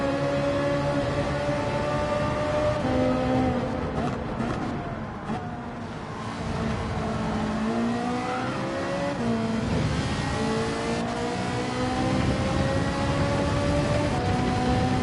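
A Ferrari race car engine in Gran Turismo 7 drones steadily and loudly for the whole stretch, its pitch climbing and dipping as it revs through gears, with other cars' engines layered alongside.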